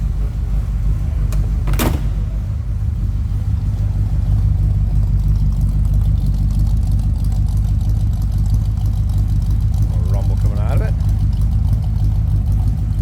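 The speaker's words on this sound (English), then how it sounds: "Here's a little rumble coming out of that 312." A 1957 Ford Fairlane 500 convertible's 312 V8 with automatic transmission idles with a steady low rumble, close and even throughout, while a person talks over it.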